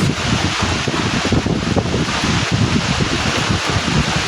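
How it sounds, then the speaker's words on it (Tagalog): Strong wind roars and buffets the microphone with a dense, constant rush that stays loud throughout, and no one speaks. "lakas ng hangin"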